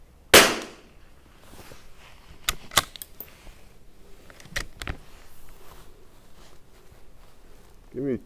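Tikka T1x .22 LR rimfire rifle fired at a target on a range: a sharp, loud crack at the start followed by several fainter clicks and knocks of handling, with a short muffled voice at the end.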